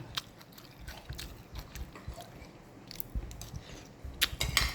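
Crunchy food is bitten and chewed close up, probably a meal of rice noodles with fermented fish sauce, with crisp irregular crunches that grow sharper toward the end, and no talking.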